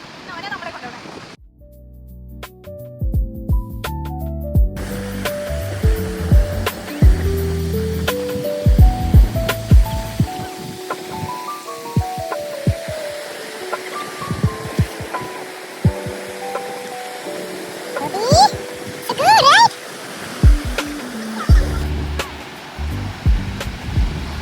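Ocean surf washes steadily onto Galveston beach, a broad, constant hiss of breaking waves beneath close voices talking over it throughout.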